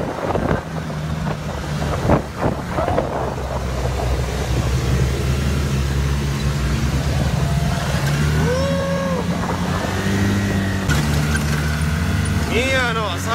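A car drives along in Aruba with a steady road and engine rumble, buffeted by wind noise, while people talk and exclaim loudly over it.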